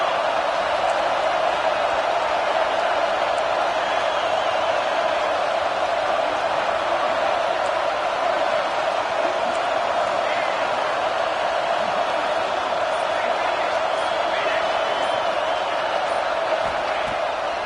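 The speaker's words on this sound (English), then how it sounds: "This crowd bringing the energy and noise early." A dense, steady roar from a large American football stadium crowd fills the whole stretch, loud and unbroken, with scattered shouts rising out of the wash of noise.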